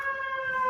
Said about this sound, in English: you can't do anything in this town without being interrupted by sirens